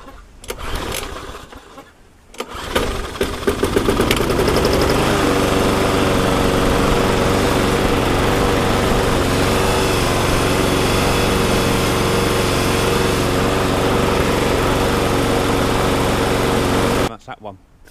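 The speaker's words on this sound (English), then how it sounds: "So I've managed to get that FS38 strimmer up and running." A Stihl FS38 petrol strimmer coughs into life after a couple of pulls, then settles into a loud, steady high-pitched two-stroke drone close by that runs on for many seconds before cutting off abruptly.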